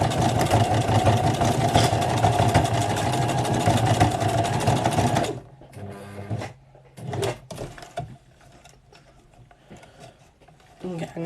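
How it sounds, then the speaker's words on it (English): Sewing machine stitching fabric scrunchies runs in a steady, loud mechanical whir for about five seconds, then stops, leaving quieter handling noises and a few short bursts. "I just try and use the sewing machine."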